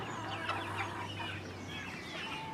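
Meat chickens cluck softly and steadily at a backyard processing station, a low, continuous hum of fowl sounds with no talking over it.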